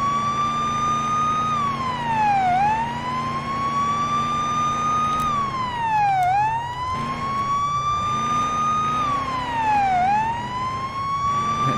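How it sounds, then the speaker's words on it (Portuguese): A police car siren wails in a police simulator video game, a loud, rising and falling electronic tone that repeats in long, even cycles with faint engine hum underneath. "Aqui é sirene."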